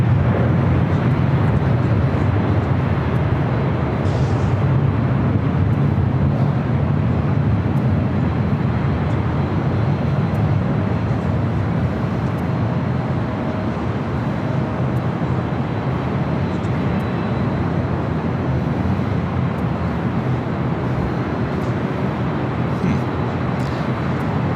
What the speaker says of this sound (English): But now just rotating. A319.